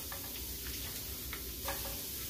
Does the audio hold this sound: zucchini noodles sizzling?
yes